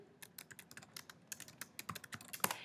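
Quiet, close typing on a computer keyboard in a document editor, a quick uneven patter of individual key clicks with a few sharper taps near the end, and no talking.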